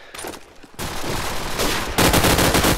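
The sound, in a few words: SMG gunfire in a video game match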